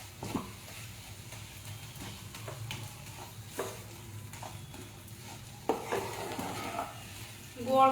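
A spoon stirs a jaggery and cashew mixture in a pan for kaju katli, with steady scraping strokes over a soft sizzle and a few louder clinks of utensil against pan near the end.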